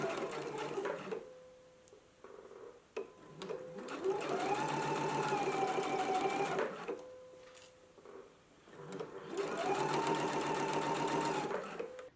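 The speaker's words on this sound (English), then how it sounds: "I'm going to go ahead and stitch on a 5/8 of an inch seam allowance, making sure that I stitch down the center of my twill tape" A sewing machine stitching a 5/8 inch seam with twill tape on knit fabric for a dress: two long runs of fast, even mechanical whirring, separated by pauses with brief handling clicks and faint speech.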